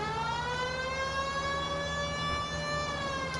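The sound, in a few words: police car siren in the video game L.A. Noire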